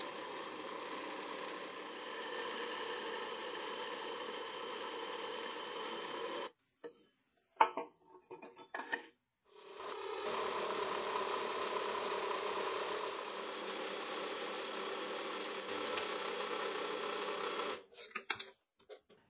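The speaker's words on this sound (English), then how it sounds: "With this bandsaw, you can have a sit down while you're cutting." A bandsaw cutting through a block for a vintage-style drill index runs as a steady whine, stops briefly midway with a few clunks, then resumes cutting and winds down near the end.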